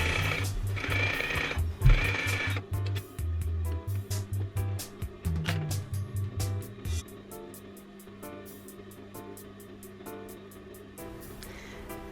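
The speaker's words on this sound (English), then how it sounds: "Just stitch straight across your fabric." A sewing machine stitches straight across fabric in bursts of rapid mechanical chattering, stopping and restarting several times, then runs as fainter steady clicking toward the end, close-up and with no one talking.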